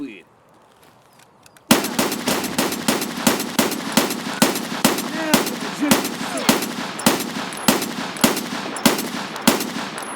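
Rapid pistol shots ring out in Escape from Tarkov, a string of about fifteen sharp, loud reports fired in quick, slightly uneven succession after a brief quiet start.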